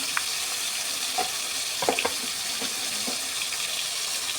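Soft, continuous sizzle of lightly boiled potatoes frying in hot oil in a kadai, with a few light clinks and stirring sounds over the hiss.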